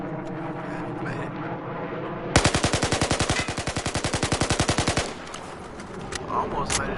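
A carbine rifle in Battlefield 4's shooting range fires one sustained full-auto burst of about thirty rapid, loud shots lasting some three seconds, with quieter game ambience before and after.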